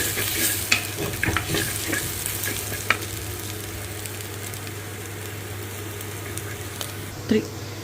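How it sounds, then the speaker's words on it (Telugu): Chopped ivy gourd frying in a pan, a steady sizzle with scattered stirring scrapes and a few louder clinks near the start and end. "ఇది వేగించడానికి 15 minutes పడిందండి మాకు"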